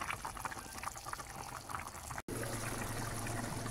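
A pot of bitter melon stew boils, giving a steady, close bubbling and hissing wash of liquid. It is broken by a brief silent gap partway through, then continues with a low hum.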